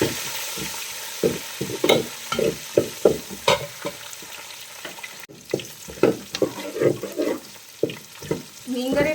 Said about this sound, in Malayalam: അപ്പോൾ ഇനി നമുക്ക് അതിലേക്ക് കുറച്ച് ചെറിയ ഉള്ളി ഇട്ട് കൊടുക്കാം.